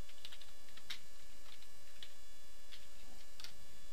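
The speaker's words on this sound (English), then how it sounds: "So I'm just going to type in hello world" Quiet, isolated keystrokes tap on a computer keyboard in a handful of sparse clicks, with a faint steady hum beneath and no talking.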